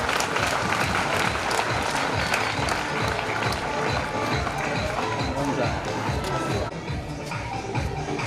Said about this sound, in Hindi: बच्चे जोरदार तालियां बजाते स्वागत में